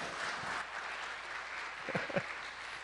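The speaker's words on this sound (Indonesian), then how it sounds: "Balik kita tepuk tangan buat mereka." A church congregation claps for people just thanked at a Sunday service, giving moderate, fairly distant applause with a few sharper individual claps standing out near the end.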